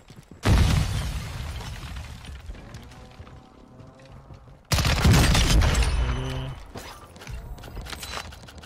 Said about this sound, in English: Gonna nade that and then push in.